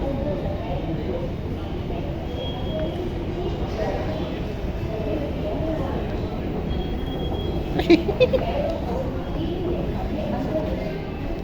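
A metro train at a station platform gives a steady, loud rumble throughout, with a brief metallic squeal of wheels near the end. Faint voices sit in the background.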